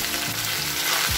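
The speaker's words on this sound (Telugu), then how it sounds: "నూనె కాగిన తర్వాత ఈ కట్ చేసుకున్న ఈ దొండకాయ ముక్కల్ని వేసేసుకుందాము" Cut ivy gourd pieces hit hot oil with a loud, close burst of sizzling that holds steady through the short moment, no voices.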